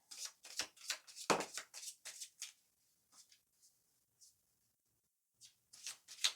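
Several quick riffles of a card deck being shuffled close by, crisp fluttering bursts separated by pauses and a few soft taps.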